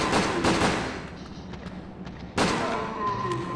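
Loud gunshots from the PS2 game Resident Evil Dead Aim, several sharp reports early on and then a heavier charged blast near the end. Each shot rings out with echoing tails.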